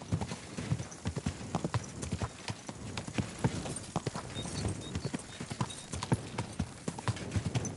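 Horse hooves clip-clop in the video game Kingdom Come: Deliverance II in a quick, steady rhythm, close and fairly loud, with no talking.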